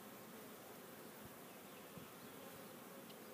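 A soft, continuous hum of many honey bees buzzing close by at an open hive, steady throughout with no voices.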